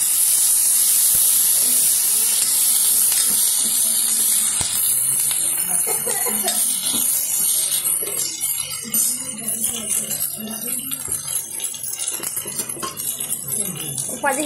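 Tomatoes hit a hot pan for rasam and set off a steady, bright hissing sizzle that runs throughout, while someone talks over it.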